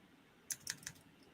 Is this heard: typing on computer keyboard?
yes